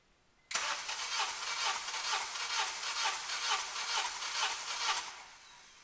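A Honda Civic R18 turbo engine cranks over on the starter during a compression test, giving about nine even rhythmic pulses of loud whirring churn that start abruptly and fade out at the end, with no talk.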